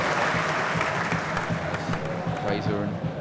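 Football crowd applauding and cheering a strong tackle by McDonald, a Welshman, at a Bournemouth match, a dense, steady wall of clapping and crowd noise throughout with commentary-like voices mixed in.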